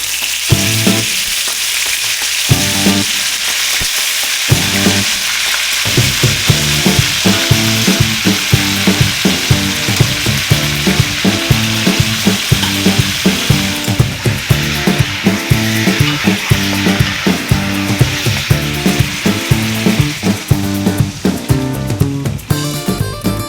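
Meat marinated in soy sauce, garlic, pepper and lemon juice sizzles loudly in a pan, with steady frying crackle and repeated scraping, stirring knocks from a utensil against the pan.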